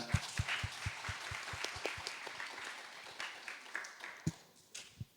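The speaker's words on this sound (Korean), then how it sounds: "박수 부탁드립니다" At a Thanksgiving Sunday church service, a congregation's applause starts with a run of crisp, evenly spaced claps, then thins into softer scattered clapping with a few sharper claps near the end.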